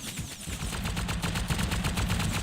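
A Rust machine gun turret fires a continuous rapid burst of evenly spaced, loud rattling shots that carries through the whole stretch.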